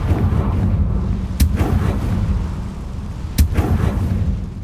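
A Confringo blasting spell goes off twice in Hogwarts Legacy, each a sharp sudden blast over a steady low rumble of ambient game noise, with no talk.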